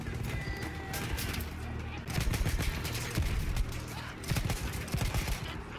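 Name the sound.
gunfire in a shooter video game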